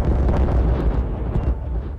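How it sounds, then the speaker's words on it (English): Explosions in the colony-building game Timberborn, a dense continuous rumble of overlapping booms with low roar and crackle, loud and steady throughout. "It can't process all the explosions."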